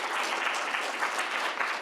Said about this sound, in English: please give this panel a round of applause